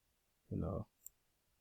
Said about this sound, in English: Then click OK.